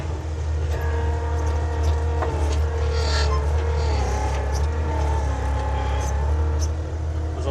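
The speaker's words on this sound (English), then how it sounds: "almost engine stalling time there again." Heavy construction machine's diesel engine labours under load on a gravel-levelling job, its low steady drone sagging in revs as if close to stalling, continuous and close throughout.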